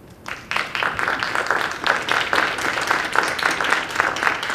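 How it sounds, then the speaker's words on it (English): A board of education meeting audience applauds honored teachers and staff, a loud steady round of clapping that starts abruptly and holds throughout. "I think they deserve a round of applause"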